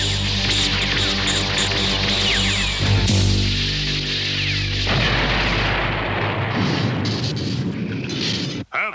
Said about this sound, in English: Have all troopers open fire